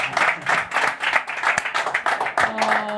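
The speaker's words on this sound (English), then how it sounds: "Please give a huge round of applause for the legend" A crowd at an Arsenal stadium fan show claps for a guest, bursts of hand claps rising and falling in rhythm, fairly close and loud.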